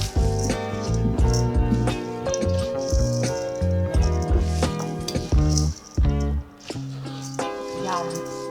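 Summer salad being tossed in a bowl, with clinks and rattles of utensils against the dish running throughout, heard under loud music and a person talking.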